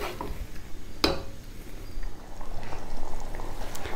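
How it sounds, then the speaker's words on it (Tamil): Garlic kuzhambu gravy bubbles in a pot with a soft, steady simmering burble, fairly quiet, broken once by a sharp clink of a utensil against the pot. "இப்போ இது பாருங்கள் நல்லா கொதிச்சிடுச்சு பாருங்கள்"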